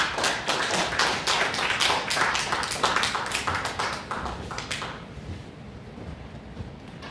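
Audience applause welcoming a pastor at the Sandol church of the army's 15th Division, dense clapping that holds steady for several seconds and then fades into scattered claps.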